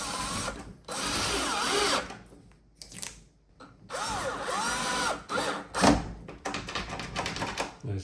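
Power screwdriver driving screws into a smart fingerprint door lock on a bedroom door, several whirring bursts of a few seconds each with short gaps and clicks, close and fairly loud, no talking.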